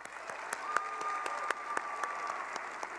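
An audience applauds at FTC robotics closing ceremonies in St. Louis. Steady clapping from a large crowd sounds fairly distant and even, with no voices over it.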